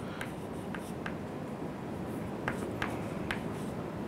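A marker or pen draws an aircraft design-phase diagram on a board, giving a few short scratchy strokes spaced unevenly over a steady background hiss, close and quiet with no voices.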